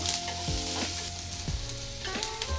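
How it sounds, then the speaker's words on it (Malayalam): Green chili slit lengthwise sizzles in hot oil in a pan, a steady close crackling fry with a few stirring scrapes and no talk. "അതിനകത്തേക്ക് ഒരു പച്ചമുളക് നീളത്തിൽ അരിഞ്ഞത് ഇട്ട് കൊടുത്തിട്ട് ഇനി കളറൊന്നും മാറണ വരക്കും നമുക്കിതിനെ വയറ്റി കൊടുക്കാം"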